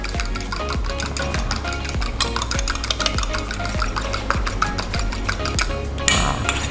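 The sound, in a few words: whisking eggs in a bowl for baked donut batter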